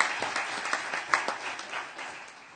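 Scattered applause at a city council meeting for HR staff, a modest round of claps from a small room with no talk over it.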